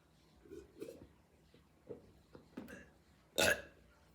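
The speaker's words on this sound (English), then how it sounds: "I burp a lot, like more than the average person" Several short throaty bursts scattered over a few seconds, ending in one louder, sharper burp, close and with no talking.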